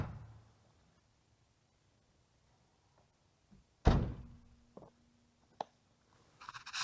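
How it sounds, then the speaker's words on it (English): A car door thumps shut on kayak straps, one loud solid slam standing alone after near silence, followed by a couple of smaller knocks and rattles. "Forget tying your straps up, just shut them in the door."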